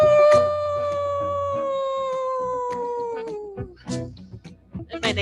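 A drawn-out howl slides slowly downward in pitch for several seconds, imitating a wolf, from people in a yoga class. Breathy sounds and short bursts of movement follow.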